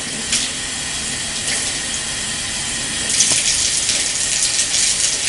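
Running tap water pouring steadily over hands during a surgical scrub in an operating theatre, a continuous hiss that grows louder and splashier partway through, with no talking.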